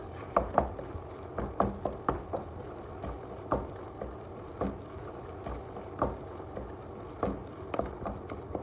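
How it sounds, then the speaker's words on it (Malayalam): Masala is stirred with coriander leaves in a pan, giving soft, irregular scraping and tapping knocks of a spoon against the metal at a slow, uneven pace, fairly quiet and with no talk. "അതൊന്ന് ഇളക്കുക."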